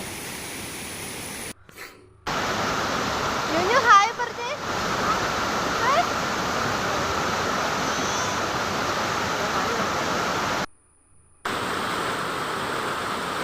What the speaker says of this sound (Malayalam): ഞങ്ങളിന്ന് എലപ്പള്ളി വെള്ളച്ചാട്ടം കാണാനായിട്ടോ പോയത്